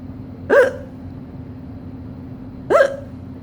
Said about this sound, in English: Does mommy have the hiccups?